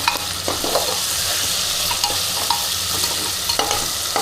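Onions fry in a pan under a steady loud sizzle while a utensil stirs and scrapes them in regular strokes, with sharp clinks against the pan every half second or so.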